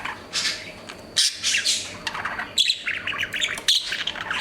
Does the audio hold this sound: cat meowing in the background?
no